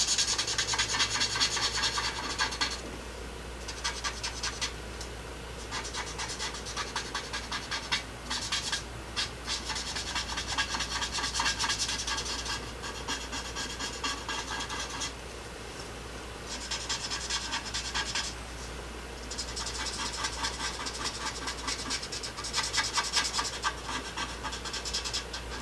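Nuvo markers blend colour on paper with a steady, close rubbing and scratching of felt tips, repeated in bursts of strokes with short pauses between them, faint and alone without talk.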